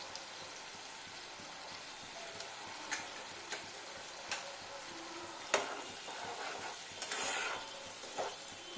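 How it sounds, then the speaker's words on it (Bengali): Ridge gourd with turmeric is stirred in a pan, a soft constant sizzle broken by scattered spoon scrapes and taps against the pan, quiet and close. "দিয়ে এবার নাড়াতে থাকবো যতক্ষণ না ওর রং চেঞ্জ হয়ে যায়"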